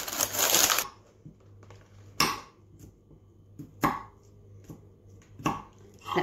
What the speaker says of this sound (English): We just want to chop our strawberries into little pieces.